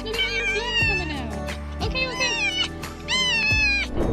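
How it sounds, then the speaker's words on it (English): A cat meows several times in a row, with loud, drawn-out, rising and falling calls close by as it reunites with its owner. "listen to these sounds of happiness when the girl realizes that she's found her lost cat"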